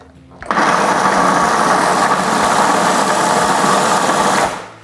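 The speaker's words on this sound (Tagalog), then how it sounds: "I-blitz lang natin ito hanggang sa maging pinong-pino na." A food processor whirs loudly and continuously, its motor buzzing with a gritty rattle as it chops dried chili peppers fine, starting abruptly and cutting off at the end.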